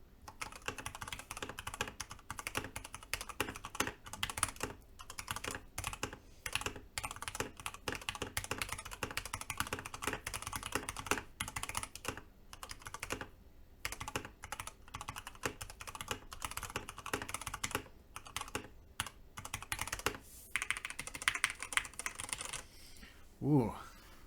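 Steady, rapid typing on a mechanical keyboard fills the whole stretch, close and crisp clacking in irregular bursts with brief pauses, over a faint background hum.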